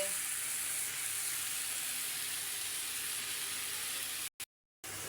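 Vallarai leaves sautéing in a pan for chutney, a steady, close sizzle and hiss that runs unbroken before cutting out abruptly near the end.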